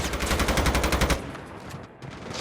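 Rapid automatic gunfire from the Call of Duty video game rattles loud and close for about a second, then cuts off to a quieter background.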